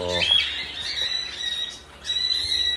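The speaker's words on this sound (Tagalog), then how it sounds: "yan mga kaibon" Birds in an aviary squawk loudly and close by in a quick run of shrill, overlapping calls, with a voice faintly present beneath them.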